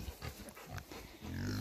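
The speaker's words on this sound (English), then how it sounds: "That little one is the little friendly pig." Pig sounds from a small, friendly piglet on a farm, with low grunting snorts close by and a longer steadier grunt toward the end; no talking.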